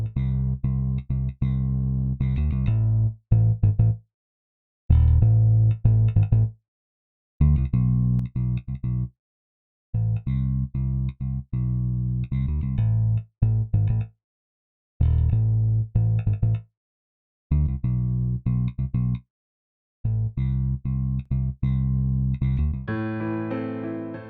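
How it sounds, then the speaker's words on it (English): Melodic instrument phrases run through an IK Multimedia White 2A compressor plugin, an LA-2A style optical compressor, giving a thick, sustained tone in repeated phrases separated by brief silences, with no voice. "Here you can hear White 2A not only enhancing the attack of the notes, but also subtly fattening the tone of the instrument."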